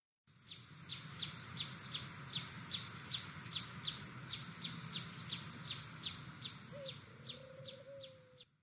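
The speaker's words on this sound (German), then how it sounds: "Nur die Vögel zwitschern" Birds chirp in a quiet cemetery lined with tall trees, an audio drama effect: a steady series of high, evenly spaced chirps over soft ambience, with a faint lower call near the end.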